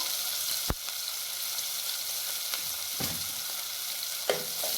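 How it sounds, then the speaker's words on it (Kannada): Finely chopped onions fry in hot oil with spluttered mustard seeds for a tempering, making a continuous even sizzle with a few sharp isolated pops and ticks. "ಚೆನ್ನಾಗಿ ಗೋಲ್ಡನ್ ಫ್ರೈ ಬರೋ ಮಟ್ಟ ಹುರ್ಕೋಬೇಕು ನಾವು ಇದನ್ನು, ಈರುಳ್ಳಿನ"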